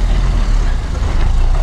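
A Renault Kaptur with a 2-litre engine pulls away slowly up a hill, producing a loud, low, steady engine rumble with heavy bass that stays even throughout.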